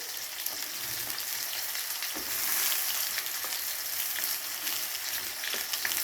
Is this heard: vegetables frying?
yes